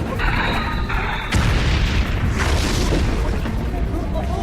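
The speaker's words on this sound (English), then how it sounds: "Depth charges." Deep, rumbling depth charge explosions roll in, with a heavy low blast about a second in followed by sustained thunderous rumbling and debris-like noise.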